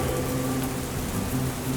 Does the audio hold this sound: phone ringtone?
no